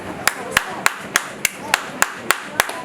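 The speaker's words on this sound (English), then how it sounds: "You clap." A single person claps alone in a quiet English-conference audience, about ten sharp, evenly spaced claps at a steady rhythm, close and distinct with nothing else around them.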